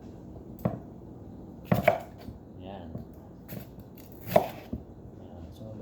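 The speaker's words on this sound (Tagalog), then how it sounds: "Hinihiwa-hiwa ko lang siya." A knife slices a large bell pepper on a cutting board, producing a few crisp separate cuts and board knocks with pauses between them, close by, and someone speaks briefly.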